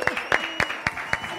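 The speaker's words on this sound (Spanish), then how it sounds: "Aplaudimos a Vicky" Small group of people clapping briefly for the winner of a children's geometric shapes and colors floor-mat game at home, a few short sharp claps spaced across a second and a half, close by with light voices around.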